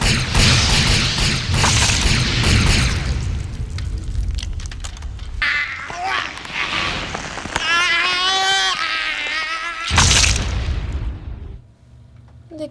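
A loud, rumbling explosion from a Leprechaun horror film booms out as a character blows up in space, followed by ringing tonal effects and a second heavy blast before fading into quiet.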